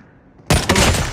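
A sudden loud burst of gunfire in the Call of Duty Mobile video game, a close, sharp crack followed by a second shot in quick succession after a moment of near silence.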